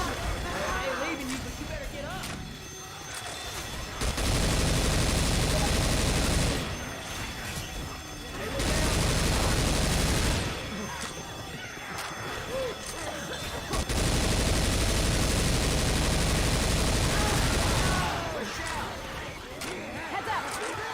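Rapid bursts of gunfire in a zombie shooter game, loud sustained volleys alternating with quieter gaps, with players talking over the action.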